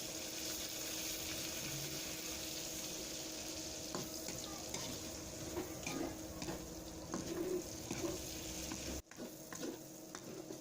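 Shrimp frying in hot oil and pressed down with a utensil, giving a steady close sizzle throughout with scraping and stirring sounds over it.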